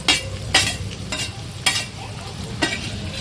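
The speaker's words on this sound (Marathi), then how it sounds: "त्यासाठी आपण पहिले कढईत तेल घेऊया आणि तेलात ना दोन दीड कांदा दीड किंवा दोन कांदा आपण घेऊया" Chopped onions frying in oil in a kadhai, a continuous low sizzle punctuated by four sharp scraping stirs spaced roughly a second apart, close and fairly loud.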